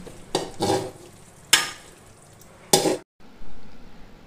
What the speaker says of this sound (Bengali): এখন ঢাকনা খুলে নেড়ে চেড়ে দিব